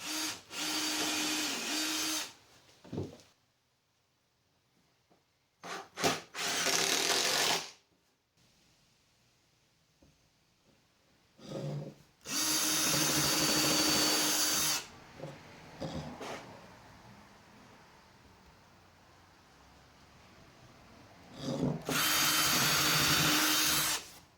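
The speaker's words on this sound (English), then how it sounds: "Screws to hold top to the frame." A power drill driving screws to fasten a wooden tabletop to a workbench frame, four loud whirring bursts of a few seconds each, separated by quiet pauses with faint handling noises.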